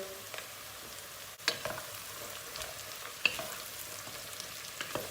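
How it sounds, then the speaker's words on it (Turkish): Beans tipped into softened onions frying in a pan: a quiet, steady sizzle runs throughout, with a handful of sharp pops and clicks standing out here and there. "Soğanlar rengini kaybetmeye başladı. Tam bu aşamada 250 gram fasulyesini atıyoruz içine."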